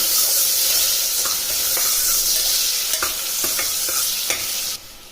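Thinly sliced onions sizzle and fry in hot oil for kuska pulao, with a steady loud hiss and intermittent scraping clinks as a utensil stirs them in the pan.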